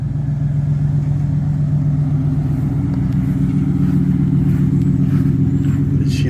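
A race truck engine drones steadily at close range, a loud continuous low rumble with a faint rise in pitch that suggests revving, and no talk over it.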